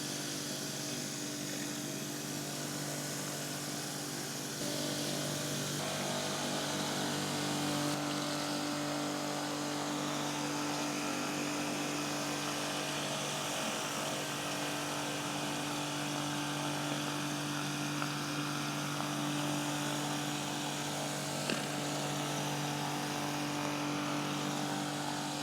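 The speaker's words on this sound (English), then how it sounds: "This is the Kärcher with the suction tube and the surface cleaner." A Kärcher K7 pressure washer running with a suction tube and a rotary surface cleaner gives a steady, loud motor whine with a constant hiss of spraying water, unbroken for the whole stretch with no voices.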